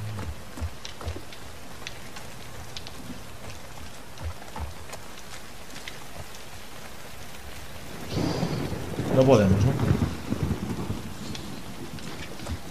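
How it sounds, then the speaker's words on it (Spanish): Heavy rain falls in the video game The Last of Us Part II, a steady hiss broken by a loud rolling thunderclap about two thirds of the way through, while someone briefly speaks over it. "Lo que hace es mucha lluvia."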